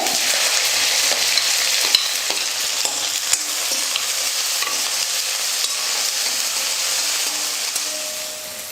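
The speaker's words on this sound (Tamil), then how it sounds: "பெரிய வெங்காயம் 2 வெங்காயம் நீல வாக்கில் கட் பண்ணி எடுத்துக்கிறேன், அதை சேர்த்துக்கிறேன்" Sliced big onions with garlic and curry leaves sauteing in hot oil, a loud steady sizzle with occasional stirring scrapes, close and continuous, easing slightly at the end.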